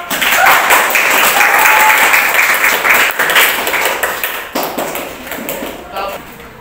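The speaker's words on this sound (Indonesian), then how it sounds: "Tepuk tangan dong." Classroom of pupils clapping hands together in a dense, steady burst that gradually thins and fades, with voices talking over the applause.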